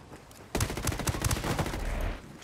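Gunfire in Tom Clancy's Ghost Recon Wildlands: after a quiet half second, a loud, dense burst of rapid automatic shots and overlapping bangs rolls on for about a second and a half before easing off.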